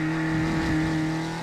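Toyota AE86 engine, light 940 kg car with stock gearing and injectors, revving hard as it exits a corner during drifting; a loud, steady buzzing drone with strong harmonics holds throughout without any voices.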